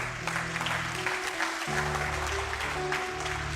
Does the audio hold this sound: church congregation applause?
yes